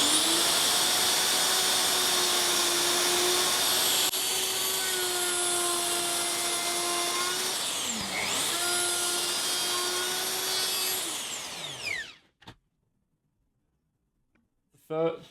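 A power tool plunge-cutting a stopped dado in wood whines loudly and steadily at close range, dips briefly mid-cut, then spins down and stops, leaving near silence before a short final noise.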